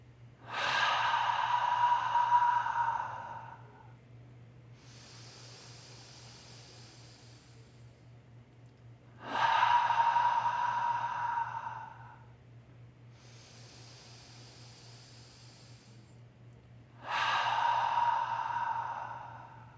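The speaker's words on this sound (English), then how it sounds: "as we take 3 breaths and feel held" Slow, deep breaths drawn in through the nose during a group meditation, three long breathy inhales spaced several seconds apart with quieter exhales between them, close and alone over a steady low hum.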